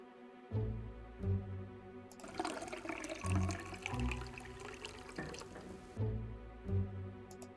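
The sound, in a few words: wine being poured out in Ben Jordan video game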